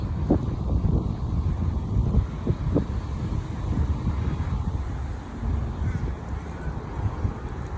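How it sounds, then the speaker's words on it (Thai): Strong gusting wind buffets an outdoor microphone near a shopping centre in Adelaide, a loud continuous low rumble with surging bursts, filling the whole stretch. "นี้ลมมากเลย"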